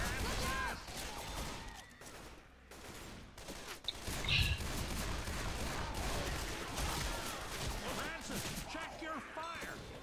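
Dense bursts of gunfire fill a Left 4 Dead 2 zombie fight, with rapid, overlapping shots running throughout at a fairly low level. Voices talk over the shooting.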